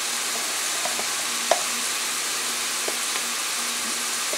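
Garlic paste frying in a pot as a base for beef and three-bean chili, giving a steady soft sizzle with a few faint clicks and one brief knock, close and without talk.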